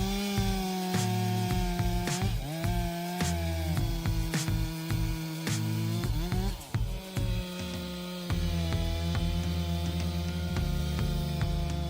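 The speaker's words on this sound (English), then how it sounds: "Harvesting these oak trees requires the use of chainsaws, because in the dense forest you cannot bring a giant machine in to harvest." Chainsaw cutting oak trees in a dense forest, with a steady droning whine that holds throughout, sometimes rising and dipping as the saw bites into the wood, loud and close.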